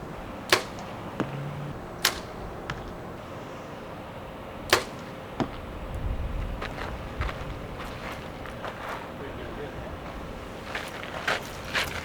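Several sharp arrow releases from a bow snap out at irregular intervals over a quiet outdoor background, with faint rustling and soft voices nearby.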